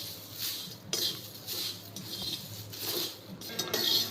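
A spoon scrapes and taps in a pan as coffee powder is stirred over a low flame, a series of short metallic strokes in an irregular rhythm, close and moderately loud.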